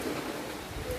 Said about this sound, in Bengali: বাইরে দেখো বৃষ্টি কিন্তু অলরেডি শুরু হয়ে গেছে